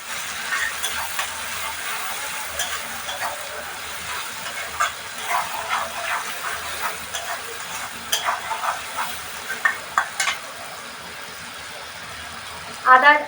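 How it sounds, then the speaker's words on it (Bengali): A mixture frying in a pan as turmeric is stirred in, a soft ongoing sizzle with irregular spatula scrapes and knocks, a voice speaking at times and a brief burst of barking-like sound at the end. "হলুদ দিয়ে দিলাম, আবার নাড়তে হবে এটাকে ভালো করে।"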